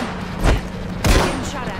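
Two heavy gunshot booms in the Apex Legends video game, each with a booming low thump and a tail of noise, about half a second apart, loud and close over a busy background.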